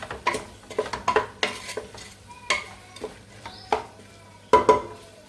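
A utensil stirs meat in a pan for an Algerian home-cooked dinner, making a close, irregular series of scraping clanks and sharp metallic taps against the pan over a soft background sizzle.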